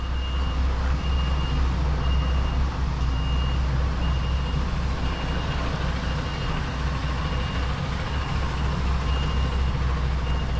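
An HGV truck reversing its trailer into a loading bay, a steady intermittent reversing beeper sounding over a constant low diesel engine rumble, moderately close, with no voices.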